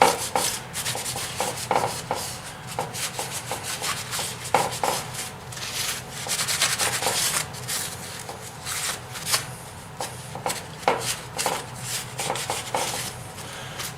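Engine valve seats on a Tecumseh H60 engine from a 1972 Hahn Eclipse snow blower being sanded by hand with 3000 grit paper: close, repeated scratchy rubbing strokes in an uneven rhythm.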